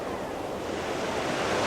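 Sea waves wash onto the beach at Shaldon, a steady broadband surf roar with wind buffeting the microphone, continuous and fairly close throughout.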